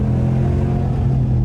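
Dodge Ram Longhorn pickup engine with an aftermarket exhaust valve, running as a deep, steady loud rumble close by, with no clear rise or fall in revs.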